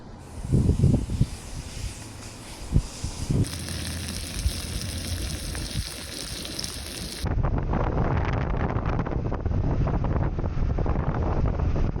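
Strong, ever-present desert wind buffeting the microphone in a steady loud roar that turns harsher and denser partway through, with a few low gusty thumps early on and no talk.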